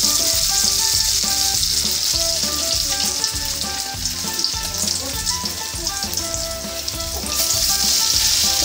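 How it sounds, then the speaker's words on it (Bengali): Mourala fish pakora, flattened fish batter fritters, frying in hot oil over a low flame, with a loud, steady, dense sizzle and crackle running throughout at close range. "আমরা ছেড়ে দেবো তেলে।"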